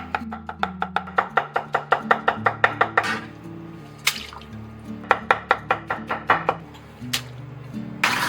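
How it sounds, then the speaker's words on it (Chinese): A kitchen knife slices a potato into thin slices on a cutting board, producing a steady run of sharp, close chopping taps that pauses briefly and then continues at an even rhythm. "然后先切薄片，然后我们再给它切丝"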